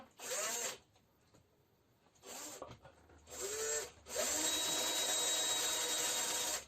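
A small drill bit bores holes to mount a hybrid photovoltaic inverter. Several whirring drill runs start and stop, ending in one longer steady run, close and moderately loud with no talking.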